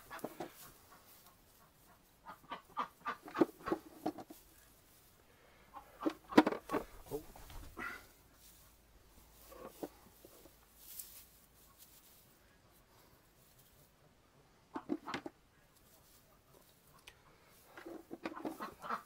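Chickens clucking along with a duck in a poultry yard during morning egg collection, scattered soft clucks and calls coming in short bursts with quiet gaps between them, fairly faint and close.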